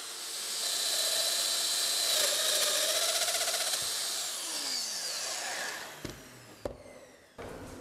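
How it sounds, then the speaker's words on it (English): Domino joiner machine cutting mortises into wood for a split-top roubo workbench leg vise, a loud sustained whining roar that winds down near the end into a few sharp knocks and clunks, close up. "if you're lucky enough to have a domino machine,"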